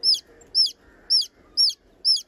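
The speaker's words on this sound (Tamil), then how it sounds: "உங்களுக்கு கோழி குஞ்சு கத்துற சவுண்ட் கேக்குதா?" A young native-breed chicken chick peeps loudly and close, five high, sharp, evenly spaced chirps in a steady rhythm with quiet pauses between.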